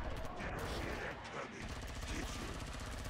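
Rapid gunfire in the video game Killing Floor 2, a dense rattling burst of shots over a constant rumble, close and fairly loud throughout the short stretch.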